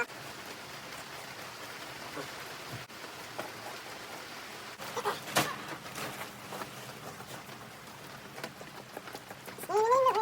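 Rain falls steadily outdoors, a dense patter on surfaces with scattered louder drops and faint bird-like chirps near the end.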